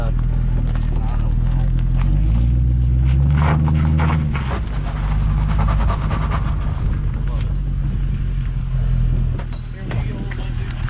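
A Narcs cart revs hard through a burnout, its loud engine note rising and holding close over tire roar and wind buffeting, with voices talking over it.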